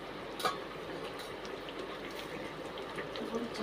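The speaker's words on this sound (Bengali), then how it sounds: "এটা ভালো করে ফুটিয়ে নিতে হবে, মাংসটা যাতে ভালোভাবে সেদ্ধ হয়ে যায়।" Meat boiling in a pot on a stove, a steady low bubbling hiss with soft splashy pops running throughout, heard up close with no talking.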